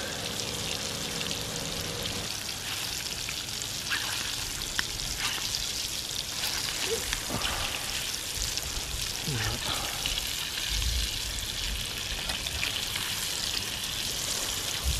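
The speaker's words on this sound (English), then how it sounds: "The best way to cook fish I think is in butter." Fish sizzles and crackles steadily in butter in a pan on a beach, a continuous close frying hiss with light spattering throughout, and a voice talks briefly over it.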